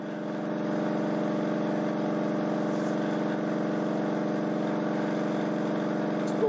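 An AC motor driven by a subwoofer-based generator at high voltage gives a steady, unbroken electrical hum with strong harmonic tones, rising at the start and then holding constant with no talk.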